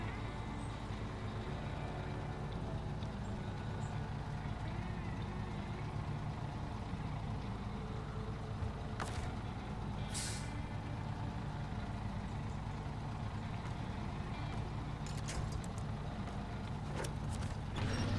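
A truck engine idles and rumbles through a long stretch of SnowRunner gameplay, a low steady drone at moderate level, broken around the ninth, tenth and fifteenth seconds by short sharp hissing bursts like air brakes releasing.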